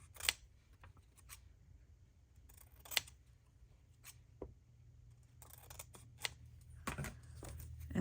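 Scissors snipping craft material for a faux shattered glass project, a series of short, crisp cuts at irregular intervals, close and fairly quiet against a low background hum.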